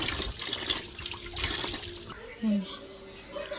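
Pieces of shark meat are rinsed in water, with splashing and trickling under nearby talk and a brief louder slosh near the end.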